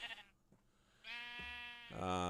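Sheep bleating in a small, crowded barn shared with pigs: a few drawn-out, wavering bleats close to the microphone, separated by brief quiet gaps, with no talk.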